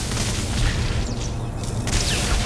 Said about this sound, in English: There's all the little instrument panel explosions.